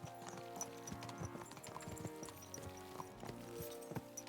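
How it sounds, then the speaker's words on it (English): Horse hooves pounding at a gallop in the medieval game Kingdom Come: Deliverance II, a steady clip-clop rhythm over a busy bed of music and ambient game sound, fairly faint overall. "Let's really spur these horses on, eh?"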